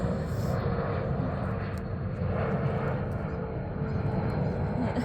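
A broad, rumbling roar of an airplane passing overhead fills the whole stretch, steady and moderately loud, with no talking.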